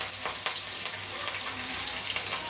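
Rohu fish pieces fry lightly in hot oil in a pan, giving a soft, even sizzle and hiss that stays steady from start to finish with no talking.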